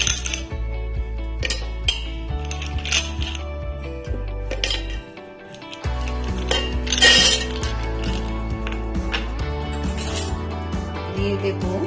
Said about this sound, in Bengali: মিক্সারের বোল নিয়ে নিয়েছি। এবার এর মধ্যে কিছু আইস অ্যাড করে দেবো।